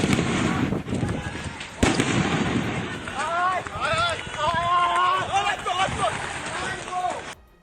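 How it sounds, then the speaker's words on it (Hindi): Several sharp explosive bangs burst out amid a chaotic crowd at a polling station, followed by shouting and screaming voices. "वहां के एक मतदान केंद्र पर एक के बाद एक कई धमाके होते दिखे।"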